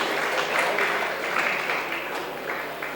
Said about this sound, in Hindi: तालियां बजाया करें भाई, जिसका सम्मान हुआ करे